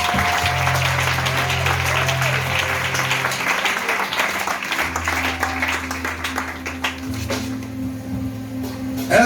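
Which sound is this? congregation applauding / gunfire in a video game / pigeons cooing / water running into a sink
congregation applauding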